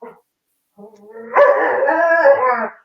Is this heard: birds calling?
no